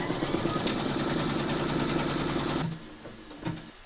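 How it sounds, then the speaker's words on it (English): Embroidery machine stitching a quilt panel in the hoop, a steady rapid mechanical whir running close and loud before stopping abruptly, followed by a faint clunk. "Pop your hoop into your machine and stitch round number 5"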